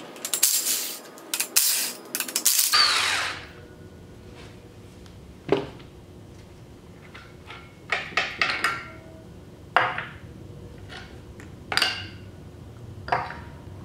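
A ratchet wrench works the carrier cap bolts on a Dana axle: a burst of rapid ratcheting clicks, then scattered metallic clinks and taps from loosening bolts and handled parts, close and moderately loud.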